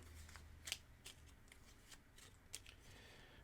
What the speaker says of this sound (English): And we need to shuffle.